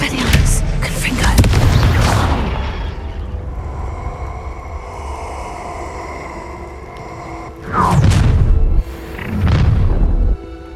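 Expelliarmus and Confringo spells are cast in the video game Hogwarts Legacy. Loud, heavy booms and blasts with rumbling low impacts come in bursts, separated by a quieter, humming stretch.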